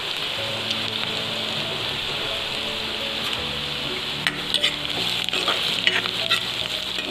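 Garlic, then ginger, sizzling and frying in a pan for an Assamese dried fish dish, a steady crackling hiss with stirring scrapes that grow busier toward the end, with no talking.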